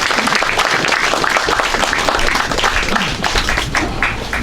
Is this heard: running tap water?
no